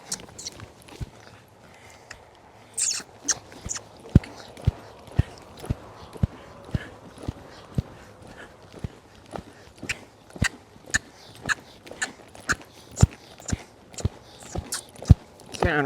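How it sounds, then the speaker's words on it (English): A horse ridden into a canter drums out sharp, regular hoofbeats in a rolling rhythm, close and distinct, with soft creaks and rider movement between strikes. "He wouldn't let me hold him in the canter."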